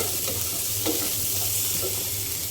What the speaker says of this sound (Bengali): তেল ছাড়া ভাজবেন এরকম শুকনো কড়াইতে